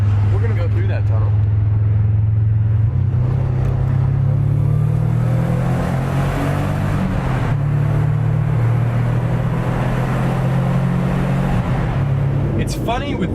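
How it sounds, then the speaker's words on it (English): A Subaru Forester STI exhaust gives a loud, deep, steady rumble, with a low droning tone that shifts slightly in pitch and echoes inside a tunnel. "I expect it to be louder than it is, especially in a tunnel. It's so deep and rumbly"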